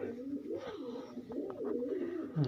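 Pigeons coo close by in a continuous, wavering low warble, with a few faint knocks and scuffs behind it.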